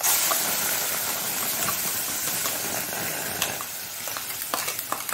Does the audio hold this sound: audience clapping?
no